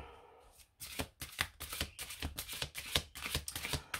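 A deck of tarot cards being shuffled by hand, a steady run of about a dozen riffling bursts close up, fairly quiet, with no talk.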